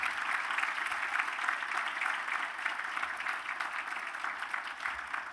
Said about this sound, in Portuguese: para quem eu peço uma salva de palmas.